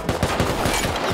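Rapid gunfire in the video game Rust, a loud close burst of about eight quick evenly spaced shots fired in a steady rhythm, heard alone.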